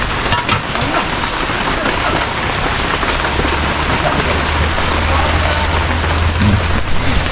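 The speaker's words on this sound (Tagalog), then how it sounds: "Sana uminto ang ulan." Steady heavy rain pours onto surfaces nearby, a dense unbroken hiss that stays loud from start to finish with no talk over it.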